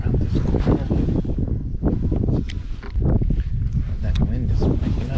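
Wind buffets a fishing boat on the California Delta, with heavy gusty rumble against the microphone and talk mixed in.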